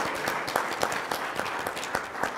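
An audience at an agricultural society forum's afternoon session applauds a LEAD New York class, giving dense, steady clapping at close range with no voices over it.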